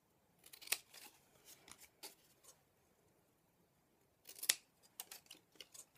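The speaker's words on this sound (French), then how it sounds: "Donc là, on va couper les parties qui sont en trop." Scissors snip off excess card while a crafter trims a mini memorydex bookshelf. Two bursts of quick, faint, close snips and crisp clicks, with small rustles between them.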